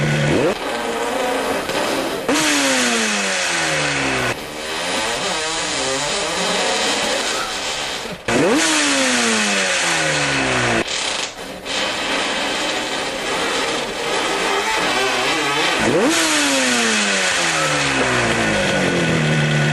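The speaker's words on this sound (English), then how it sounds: "There's a two-stroke Yamaha- RD 400. That's right. 2-stroke." A two-stroke Yamaha RD 400 motorcycle engine revs repeatedly in loud, rising bursts, each climb in pitch dropping back before the next, about six pulls over the span with no voices.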